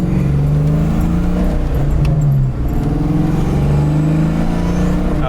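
A 1991 Ford Mustang LX accelerating hard, its engine note droning loud and steady for the whole stretch, with rising harmonic bands and no talk over it.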